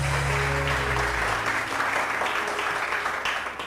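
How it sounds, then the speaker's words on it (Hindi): Studio audience applause, a full, steady round of clapping that begins under a fading low musical tone and then carries on alone, easing slightly toward the end. "बहुत सारी तालियां"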